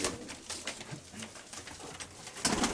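Pigeons kept by a fancier coo in repeated throaty pulses close by, several birds overlapping with flutters and rustling, no voices.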